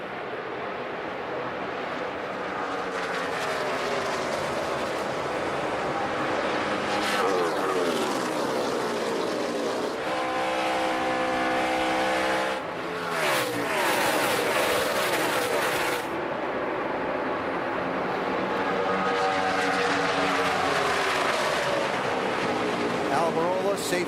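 Stock cars roaring around the Kansas Speedway oval during the 2012 Hollywood Casino 400 NASCAR race, a loud continuous engine drone with cars sweeping past, heard under steady race commentary.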